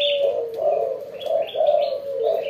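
A spotted dove (tekukur) coos in a repeated soft, hollow phrase, close and clear, with a few thin chirps over it and no talking.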